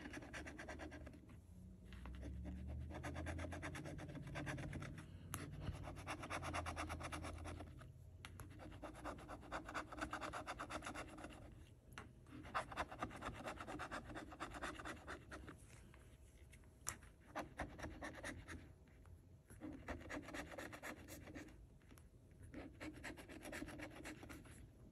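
Coin scratching off Florida Gold Rush lottery scratch-off tickets, a steady close rasping rub that goes on almost without pause, with short gaps between passes and no talking.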